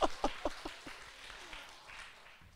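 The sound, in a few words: congregation applause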